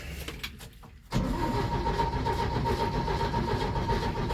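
An old Dakota pickup truck's engine cranks continuously as someone tries to start it, a steady loud churning whir that sets in after a short quiet moment and carries on without catching.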